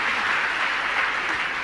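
An audience at a Jain religious discourse bursts into loud, dense applause that holds steady and close for under two seconds, with no voices over it.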